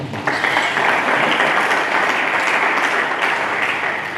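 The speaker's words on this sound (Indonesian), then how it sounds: "Mari kita berikan tepuk tangan." A church congregation claps during a sermon, a loud, full burst of applause that holds steady for roughly four seconds with no talking over it.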